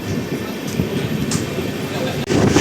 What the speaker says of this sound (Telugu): ఎగ్జాక్ట్గా 2 మినిట్స్ తర్వాత మన ట్రైన్ అయితే స్టార్ట్ అయిపోయింది.